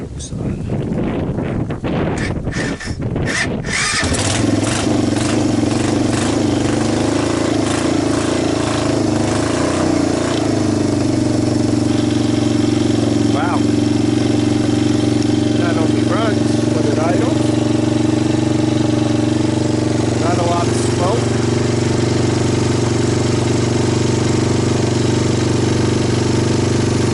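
Cranking and sputtering of a water-damaged vintage Honda Fourtrax 300 ATV engine catching after a few seconds, then settling into a steady, loud idle close by with light wind buffeting over the microphone.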